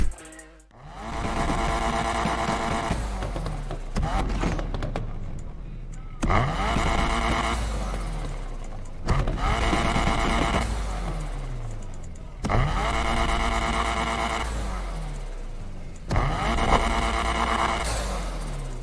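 A car engine in the racing video game Need for Speed Unbound revs up repeatedly through the gears, each climb in pitch ending in a shift and a fresh surge, loud and continuous.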